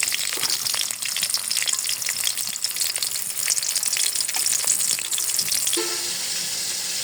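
Chilli paste hitting a hot pan after eggs have been fried, giving a loud, dense, continuous sizzle with crackling spatters throughout, alone without any talk.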